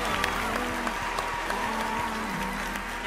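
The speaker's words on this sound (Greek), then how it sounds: "Και εδώ θέλει χειροκρότημα για όλους τους μπαμπάδες." A studio audience applauds on the TV talent show Greece's Got Talent, with steady, moderately loud clapping throughout and a faint musical tone underneath.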